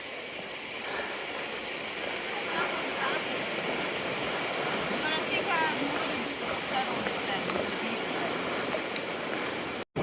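A small waterfall near Rausch Creek on the Appalachian Trail pours from a pipe, making a steady, close, broadband rushing hiss that continues unbroken for about ten seconds.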